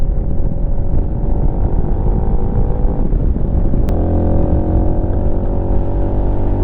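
A Lifan KPM 200cc motorcycle runs steadily while being ridden, its engine drone loud and constant with a low rumble and faint wind noise throughout, no voices.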